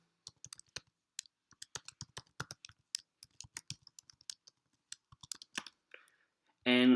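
Computer keyboard keys clicking in irregular bursts while code is typed, close and fairly quiet, with brief pauses between runs of keystrokes and a louder clatter at the end.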